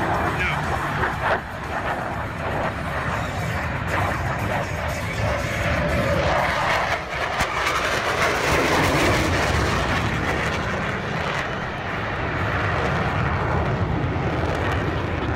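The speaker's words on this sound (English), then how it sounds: "These airplanes are too loud, Mommy." Breitling team airplanes fly overhead at an air show in a flight simulator game, a loud, steady, broadband engine roar that fills the whole stretch, with a voice speaking over it.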